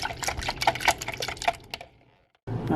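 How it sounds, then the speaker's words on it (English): A whisk beating eggs for scrambled eggs, a quick run of rapid rhythmic clicking and sloshing against the bowl that stops briefly before a louder burst resumes. "You want to take a whisk, that way you can whisk"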